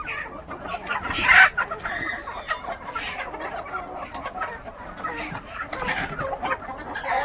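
Desi country hens at a poultry farm cluck steadily nearby, with one louder squawk standing out amid a busy flock chorus and a rooster crowing, and faint voices in the background.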